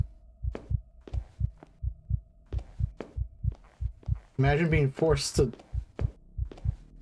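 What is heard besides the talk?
heartbeat sound effect in a horror video game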